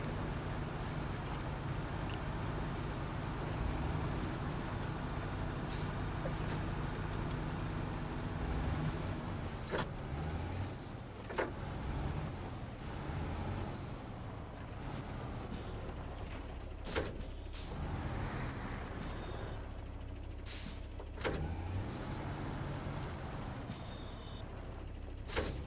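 A recovery truck engine in Snowrunner drones steadily at low volume, a continuous rumbling idle and pull with occasional clanks and mechanical knocks, heard alone without talk.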